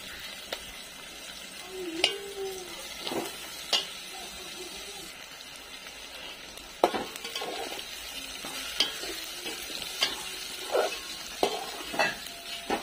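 Tomatoes and turmeric fry in a pan for masala bhaat, a low sizzle under repeated clinks and scrapes of a spoon stirring against the metal, with sharp taps spaced irregularly throughout.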